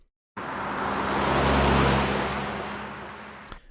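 A single car approaches and passes by, its engine and tire noise swelling to a peak and then fading, with no other traffic.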